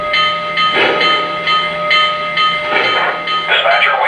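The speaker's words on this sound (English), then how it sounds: "based upon throttle actions or throttle commands of the locomotive, the engine will make different sounds" A model locomotive's sound system plays a running engine under throttle, a steady loud mechanical drone with rhythmic chuffing surges and bright tonal hiss throughout.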